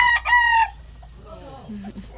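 A loud rooster crow rings out at the start, followed by softer bird calls and low sounds nearby.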